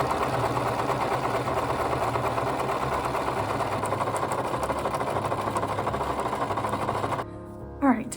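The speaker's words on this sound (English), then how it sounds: "I'm gonna be sewing around the shape of the leaf, and then also along each of these edges where the fabric is" A sewing machine stitches steadily around a fabric patchwork leaf, humming and rattling continuously for several seconds before stopping near the end.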